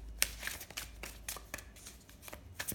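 Tarot cards being shuffled fast by hand, a run of quick papery riffles and flicks with sharp card snaps at irregular intervals, close and moderately quiet, with no talking.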